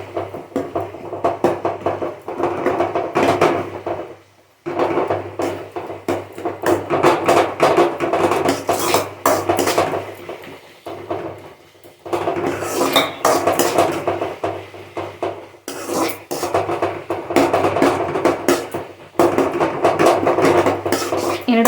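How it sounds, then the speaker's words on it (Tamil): A spatula pounds and scrapes tomatoes and onions in a cooking pan for a Chennai-style kuruma, giving repeated loud metallic clanks and knocks in irregular bursts with brief pauses between them. "என்னடா இதே குத்திக்கிட்டே இருக்காலே, சவுண்டு வந்துக்கிட்டே இருக்கேன்னு பார்க்காதீங்க."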